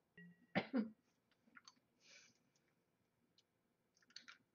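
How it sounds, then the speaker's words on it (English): A single rough cough up close, then quiet rustling and small clicks in an otherwise still room. "This cough is rough."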